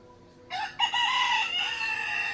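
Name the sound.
rooster crowing in the morning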